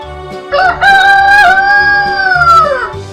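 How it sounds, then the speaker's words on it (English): A rooster crows loudly and close, one long harmonic cock-a-doodle-doo rising and then trailing off, heard on its own with no talk. "Rooster."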